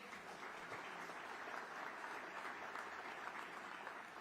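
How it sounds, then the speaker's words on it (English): Steady applause from a conference audience at a ministerial-level trade event, dense, even clapping sustained throughout at a moderate, slightly distant level with no break. "a big round of applause for Catherine for"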